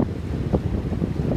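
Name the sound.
strong wind gusts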